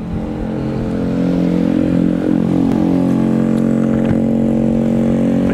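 An Alva Cervo electric motorcycle rides on the road on a long-distance trip from Jakarta to Cipanas, giving a steady, loud motor whine with layered tonal hum and rushing wind that holds constant throughout.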